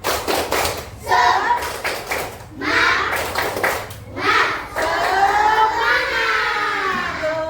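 Schoolchildren in a classroom perform the 'tepuk semangat' clapping chant, sharp bursts of rhythmic claps alternating with loud, close group voices chanting together.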